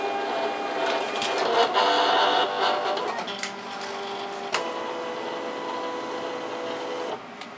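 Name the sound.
Silhouette Cameo cutting machine reading registration marks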